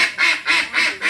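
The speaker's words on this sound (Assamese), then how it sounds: "এইপিনে হাঁহ মাৰি আছে।" Ducks quack loudly and close by in five evenly spaced, rasping calls in quick rhythm, with no talking over them.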